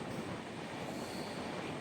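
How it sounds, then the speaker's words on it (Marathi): A steady, loud rumbling roar of a train moving through a long railway tunnel, a dense wall of noise with no breaks. "ट्रेनचा सर्वात मोठा बोगदा आहे त्या बोगद्यामध्ये आपण आलेलो आहोत"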